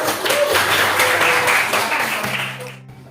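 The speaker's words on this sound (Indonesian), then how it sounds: "berikan dulu tepuk tangan untuk kelompok 1" A class gives a round of applause for a presenting student group, a short, close burst of clapping from a small crowd that fades out within a few seconds.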